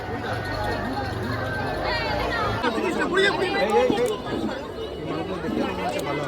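Crowd at a busy Rath fair on a rainy day, a dense close wash of overlapping voices and chatter that stays steady throughout, with occasional louder calls rising out of the babble.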